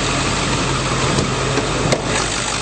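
A 2002 Ford F-250 Super Duty XLT with a 7.3-liter Power Stroke diesel idles close by, a loud, steady, even rumble with no voices.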